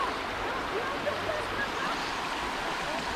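A fast-flowing, shallow, rocky mountain stream gives a dense, steady rushing and babbling, close and loud, with no pauses.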